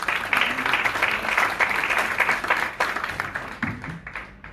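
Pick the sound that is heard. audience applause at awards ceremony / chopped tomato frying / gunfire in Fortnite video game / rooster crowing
audience applause at awards ceremony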